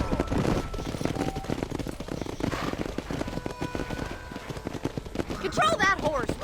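Horse hooves clip-clop in Red Dead Redemption on Xbox, a rapid, steady patter of rider-driven hoofbeats up close, mixed with game music and voices talking over it.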